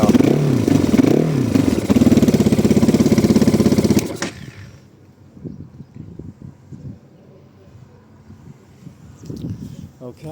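A GPX fuel-injected motorcycle engine idles on its automatic choke with a loud, steady close-up chug for about four seconds, then cuts off, leaving quiet room sound and someone talking.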